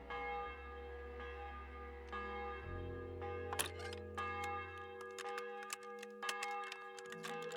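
Church bell tolling inside the medieval game Kingdom Come: Deliverance 2, several strong ringing strikes with long sustained tones over a low drone, clear and fairly close.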